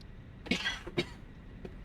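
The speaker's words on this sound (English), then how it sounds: "Don't mean to cough in your ear." Two quick, close coughs about half a second apart, followed by quiet room tone.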